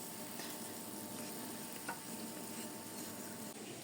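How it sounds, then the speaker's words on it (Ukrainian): Pampushky doughnuts gently simmering in vegetable oil over a very low flame, a steady soft sizzle and bubbling heard close and unbroken, with no voices. "Вогонь роблю дуже малесенький, щоб вони єлі-єлі кипіли."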